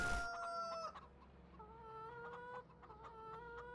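A rooster in the video game Farming Simulator 2013 gives a loud opening squawk, then a run of clucks and short crowing calls, fairly close with faint background noise.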